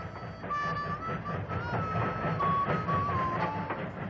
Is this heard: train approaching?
yes